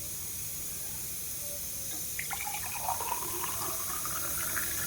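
Water being poured into a pot holding a spoonful of cumin, starting midway as a close, trickling, bubbling fill with a steady hiss behind it and no talk.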